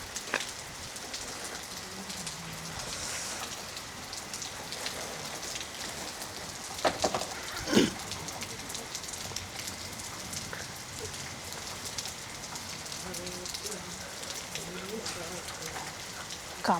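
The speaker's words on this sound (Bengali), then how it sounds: "এরপরও দেখেন বৃষ্টি মোটামুটি লেভেলের পড়তেছে, তেমন কমছে না" Rain falls steadily on surfaces around a sheltered outdoor spot, a constant close hiss with scattered louder drop hits, continuing without letup throughout.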